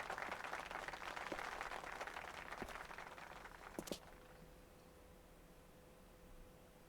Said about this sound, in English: you should clap for him. More people clap.